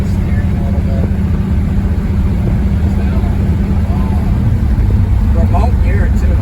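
Steady low rumble of a 1968 Pontiac Tempest engine on the move, loud and continuous from inside the car, with road noise filling the cabin.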